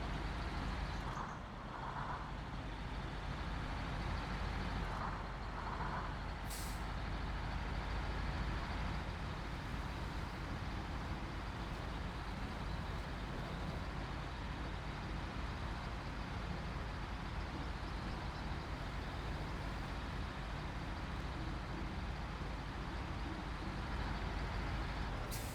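A heavy truck grinds through deep mud in the video game SnowRunner, a steady loud engine drone with churning low rumble that continues without a break.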